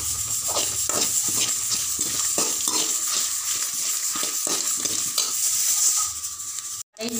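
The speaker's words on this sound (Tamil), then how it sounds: "சோம்பு, சேர்த்து வாசனை வர வரையும் வறுக்கணும்." Fennel seeds dry-roasting in a pan, stirred so they rattle and scrape against the metal in repeated close strokes over a light sizzle, with a brief clank near the end.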